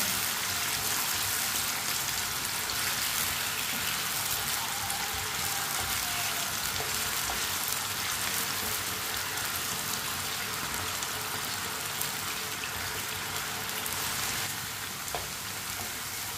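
Potatoes frying in a pan for aloo karela, a steady, dense sizzle that holds evenly throughout with no talking.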